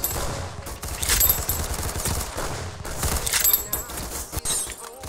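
Gunfire in a video game shooter rattles in rapid bursts with sharp cracks and shattering debris, loud and busy, with brief pauses between volleys.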